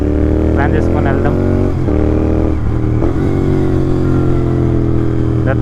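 A Royal Enfield Continental GT motorcycle engine runs loud and close, its throttle blipped in repeated revs that rise and fall. A voice talks over it.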